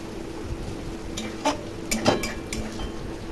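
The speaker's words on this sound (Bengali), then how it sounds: "খুব ভালো করে নেড়ে আমি ভেজে নিলাম" A spatula scrapes and clinks against a pan while okra fries with fish roe, giving a few sharp metallic knocks over a soft background hiss, close and brief.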